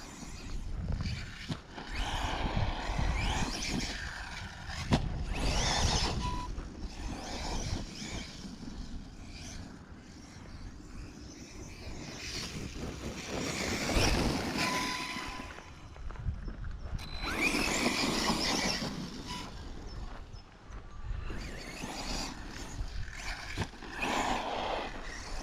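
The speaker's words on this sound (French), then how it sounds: "Un petit bruit comme ça de pignon là." A Carson Virus 4.2 RC buggy runs in a meadow with a pinion gear meshed a bit too wide, its motor and gears whining in rising and falling bursts, close by at times and farther off at others.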